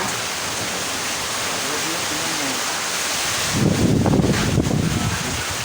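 Steady roaring typhoon wind and rain hiss in Cebu during Typhoon Tino, broad and unbroken, with a stronger gust swelling midway before easing.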